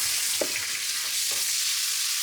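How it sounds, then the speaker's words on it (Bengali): Steady, bright sizzling of onions frying in hot oil after fried fish, with a few soft stirring scrapes mixed in. "পেঁয়াজটাকে লাল লাল করে একটু ভেজে নিই"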